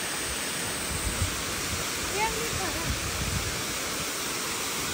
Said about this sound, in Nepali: झरनामा चाहिँ यस्तो राम्रो झरना चाहिँ झरिराखेको छ